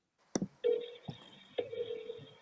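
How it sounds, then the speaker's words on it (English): A telephone is dialed, giving a short run of keypad tones: a brief click, then steady held tones with a small break between them, close and fairly clear against a quiet background. "Yeah, I'll dial it."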